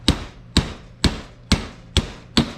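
A transmission front pump bushing is knocked out with six evenly spaced, sharp metallic hammer blows, close and loud, each ringing briefly.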